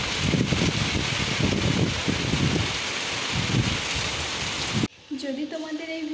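Heavy rain pours steadily on trees and surfaces at a village home, a dense, loud hiss that runs unbroken before cutting off abruptly near the end, followed by quieter sounds.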